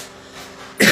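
After a quiet moment, a person suffering from fever and a persistent cough gives one sharp, loud cough close to the microphone.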